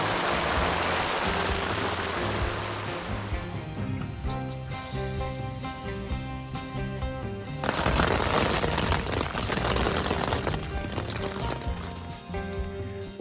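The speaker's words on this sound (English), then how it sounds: "we were faced with the most torrential downpour I've ever experienced" Heavy torrential downpour during a high-country elk hunt, a dense steady wash of rain that swells louder partway through, with a faint low tonal layer underneath and no talking.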